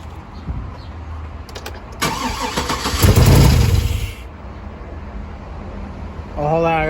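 A 6.0-litre LQ9 V8 fresh from a valve job, new lifters and a head gasket cranks loudly for about two seconds and fires, then settles into a rough idle, with a voice briefly heard near the end.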